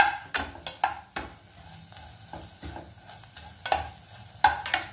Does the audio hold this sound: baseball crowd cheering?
no